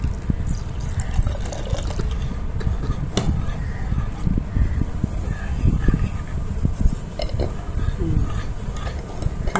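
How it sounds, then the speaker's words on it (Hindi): Water pours into a bowl of gram flour batter for bread pakoda, a continuous close trickle and splash that holds steady for several seconds. "तो इसमें डालूंगी थोड़ा सा पानी"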